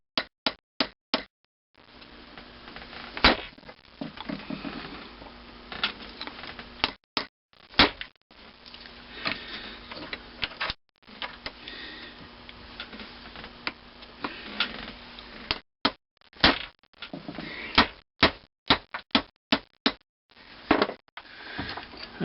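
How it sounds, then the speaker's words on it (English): Hammer knocking a worn guide rod out of a Wico EK magneto: a run of sharp metallic taps, close and fairly quiet, coming singly and in quick clusters with brief pauses, over faint shuffling handling noise. "with this hammer right here, let's knock that out of there."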